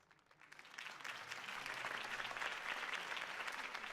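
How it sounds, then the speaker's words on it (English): Crowd applause in the Batman Telltale video game following a campaign speech for Harvey Dent, swelling quickly into steady, dense clapping that continues throughout without voices. "could have heard that applause"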